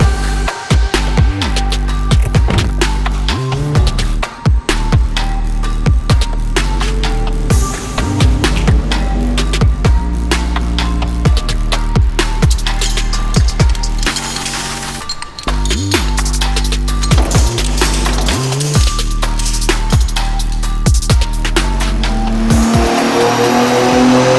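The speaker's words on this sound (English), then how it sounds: "let's put this X4M on our in-house dyno to see what it makes from the factory" A BMW X4 M engine roars loudly and steadily at high revs on a dyno throughout, with repeated sharp surges and brief drops.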